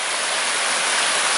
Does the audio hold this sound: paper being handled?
no